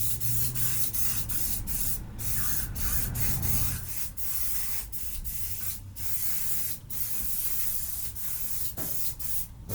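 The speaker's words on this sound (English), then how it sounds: "Everything's just been sprayed directly on there without touching a thing." Bike cleaner is sprayed directly onto a bicycle in a run of short, sharp hissing bursts repeated rhythmically, loud and close, with no talking.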